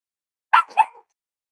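A dog barks twice in quick succession, close and fairly loud, the two short yaps standing out against otherwise silent surroundings.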